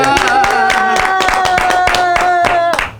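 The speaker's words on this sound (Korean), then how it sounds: "우리 크게 박수 한번 칠게요." Audience at a Suseong district council broadcast bursts into loud, close clapping, sharp claps in quick irregular bursts lasting a few seconds, with a sustained tonal note running underneath before fading out.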